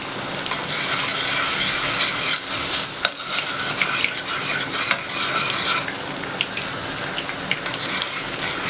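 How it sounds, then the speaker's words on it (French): Béchamel being stirred in a pan as milk goes in for a moussaka, a steady close scraping and sizzling with clinks of a utensil, running continuously without any talk. "On rajoute du lait."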